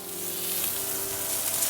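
A steak sits in a very hot pan for searing and gives off a dense, even sizzle up close, loud and unbroken for under two seconds with no voices.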